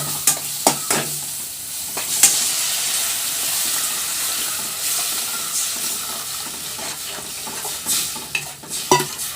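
Masala sautéing in hot oil in a pan, a close steady sizzle and hiss with spoon stirs and scrapes, occasional splashes as tamarind water goes in.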